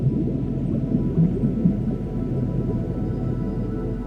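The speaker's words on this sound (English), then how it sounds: "Humpback whale and bottlenose dolphin." A humpback whale and a bottlenose dolphin call underwater, with low, droning moans and scattered squeaks over a dense, rumbling sea background that stays steady throughout.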